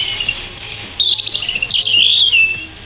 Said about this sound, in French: Rouge-gorge familier.